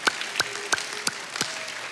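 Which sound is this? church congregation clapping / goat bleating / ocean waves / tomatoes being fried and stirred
church congregation clapping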